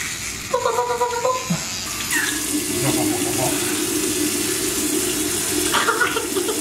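Tap water runs into a bathroom sink at bedtime while a child rinses, a steady close splashing stream, with a few brief squeaky voices near the start.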